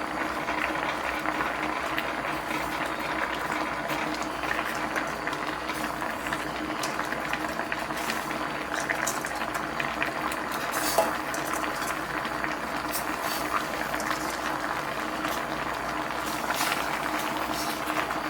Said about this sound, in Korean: 충분히 밑에서 양념장이 부글부글 끓어 올라가지고